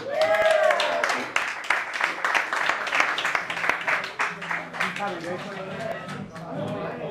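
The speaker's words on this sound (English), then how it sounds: "Ladies and gentlemen, a revolutionary round of applause" Applause for a performer at a small live gig, a patchy mix of close, distinct hand claps and cheering voices that thins out as people begin talking.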